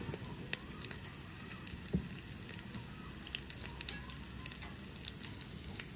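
Red chilies and garlic crackle and spit in hot desi ghee, a faint steady sizzle with scattered sharp pops and one louder burst.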